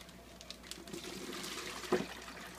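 Fish and store water pour into a clean bucket with a soft, faint trickling splash, rising briefly to a louder gurgle near the end.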